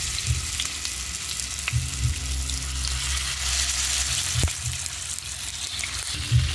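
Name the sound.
chicken frying in hot oil in a frying pan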